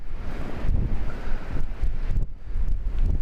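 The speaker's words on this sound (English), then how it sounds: "the wind's picking up" Strong wind at a remote lakeshore campsite in Split Rock Lighthouse State Park, Minnesota, roaring and buffeting the microphone continuously, loud and close with no lull.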